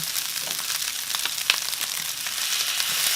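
Rice being stir-fried in a hot pan with a little water, giving a steady close sizzle and crackle with scattered scrapes of the spatula, growing slightly louder toward the end.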